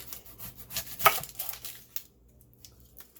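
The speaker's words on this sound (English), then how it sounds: "first thing I'm going to do is get the onion chopped" Onion chopped on a cutting board while making a low carb cabbage roll casserole, a run of close, crisp knife chops with one sharper strike, then a quiet pause and a few light taps.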